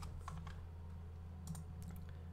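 Quick key presses on a computer keyboard as a search is typed, a short run of light clicks over a steady low electrical hum.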